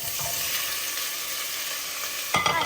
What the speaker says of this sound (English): Let's cook the veggies.